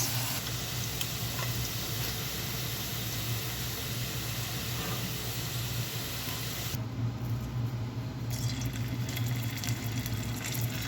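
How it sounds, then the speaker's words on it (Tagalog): Meatballs sizzle steadily in hot oil in a frying pan, a continuous close crackle and hiss with no talk over it. "Ipiprito na natin sunod guys yung ating meatballs."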